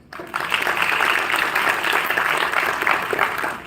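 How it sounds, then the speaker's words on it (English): University lecture audience breaks into a sustained round of applause, many hands clapping loudly and evenly for several seconds after a brief quiet start. "Big round of applause for that."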